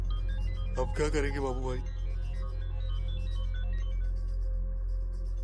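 A mobile phone ringtone plays steadily from inside a pocket, a continuous electronic melody running throughout under a low hum, while someone speaks briefly over it.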